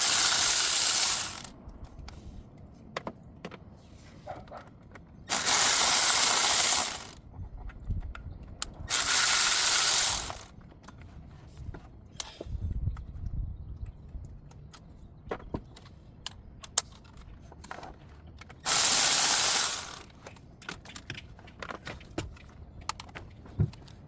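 Hand ratchet working four 8mm bolts free from the water pump housing of a 2015 Ford F150 3.5L engine, bursts of rapid clicking repeating in several separate runs with quiet handling noises between.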